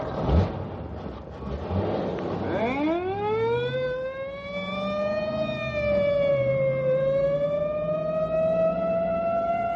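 A screaming squad car siren from the opening of an old radio adventure drama sweeps sharply upward, then holds a loud, steady wail that drifts slightly in pitch over a low rumbling background, with no talking.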